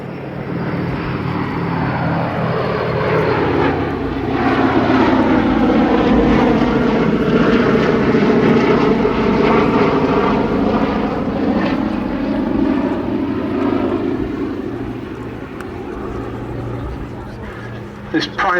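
A Boeing B-17 Flying Fortress, Sally B, running in for a solo flying display at an airshow, its piston engines droning loud and steady as it passes, with a commentator talking over it throughout.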